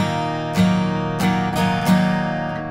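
An electric or acoustic guitar plays chords in straight eighth notes, with sustained ringing tones and a few sharper strummed accents, close and alone.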